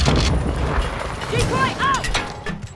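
Grenade explosions and gunfire from Call of Duty: Modern Warfare II rumble through a busy, dense battle mix of booms and shots, with game radio voices calling out over the action.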